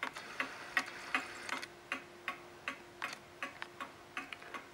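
A Sessions Berkely model tambour-style mantel clock from the late 1920s ticking steadily, crisp evenly spaced ticks heard up close in a quiet room with no talk.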